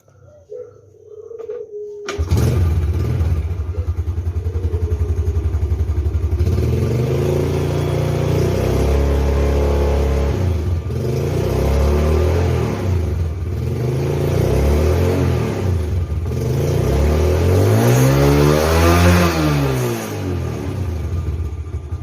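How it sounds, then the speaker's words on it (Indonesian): A Yamaha Jupiter Z motorcycle engine cranks and fires after a short quiet start, then idles loudly and close with repeated throttle blips rising and falling, the biggest rev swell near the end. "kita coba nyalain motornya"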